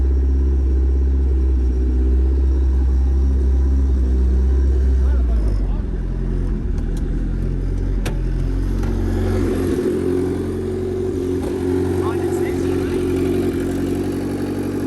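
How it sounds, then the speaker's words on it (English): A 500 hp turbo D16 engine in a Honda Civic sedan running after sitting for a year: loud deep idle rumble close by, easing to a lighter, steadier idle about midway, with voices talking over it. "Freaking Sleeper Civic is back up and ripping."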